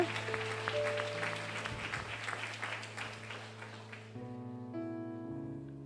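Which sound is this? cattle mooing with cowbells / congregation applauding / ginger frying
congregation applauding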